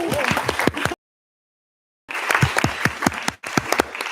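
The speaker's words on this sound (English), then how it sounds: "I'd love just to give you a round of applause if you don't mind" People at a city council meeting clap for those standing in the audience, a brisk round of applause that cuts out to full silence for about a second, then returns just as strongly.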